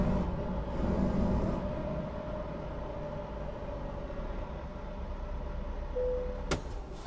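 A truck in the video game American Truck Simulator runs with a steady low engine rumble and hum, ending in a sharp brief click near the close; no talking.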